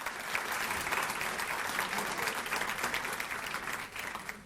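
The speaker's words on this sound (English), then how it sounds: "So a round of applause to everyone who contributed." A roomful of guests at a charity gala dinner applauds continuously, a dense, fairly loud wash of many hands that holds steady and eases slightly at the end.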